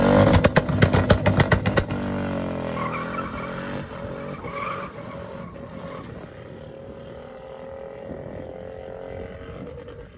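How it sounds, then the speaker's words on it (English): Twin-turbo, methanol-injected V8 in a Ford Ranger running on an auxiliary computer, opening with a loud choppy revving burst, then settling into a steady, droning roar that slowly fades, close and with no talk. "This is a twin-turbo, methanol-injected V8, run off an auxiliary computer in a Ford Ranger."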